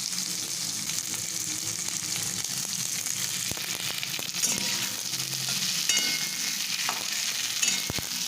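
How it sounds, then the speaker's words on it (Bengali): Capsicum stirred through hot oil in a pan for soya chilli gives a steady, close sizzle with scattered clicks and scrapes from stirring, and no voices. "ক্যাপসিকামটা তেলের সঙ্গে একটু নেড়ে নিচ্ছি"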